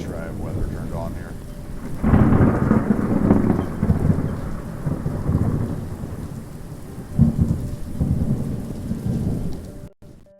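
Stormy weather in the game Cities: Skylines: dense, close rainfall hissing throughout while deep thunder rumbles build and fade twice, loud and unbroken, cutting off abruptly at the end.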